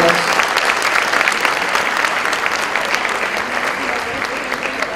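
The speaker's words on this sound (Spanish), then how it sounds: "Nuevamente le brindamos un aplauso al octavo año C y a sus alumnos ya licenciados" Applause fills a school graduation hall as a crowd honours an eighth-grade class, with close, dense clapping throughout at an even level.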